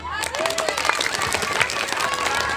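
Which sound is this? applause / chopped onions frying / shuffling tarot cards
applause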